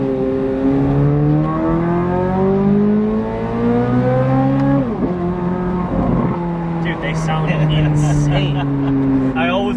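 A 2023 Corvette Z06 with a 670-horsepower engine screams up through the revs, one loud rising howl after another with quick shifts in between, then roars past close by.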